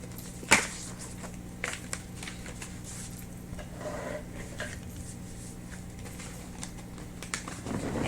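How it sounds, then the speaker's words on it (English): Thick, matte-finish tarot cards are shuffled piecemeal by hand: a soft, quiet run of light taps and papery rustles, with one sharper snap near the start. "I'm going to piecemeal shuffle."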